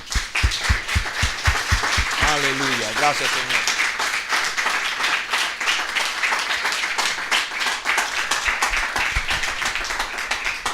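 Church congregation applauding together, sharp rhythmic claps at first and then a sustained, full round of applause filling the room, with a voice speaking over it partway through.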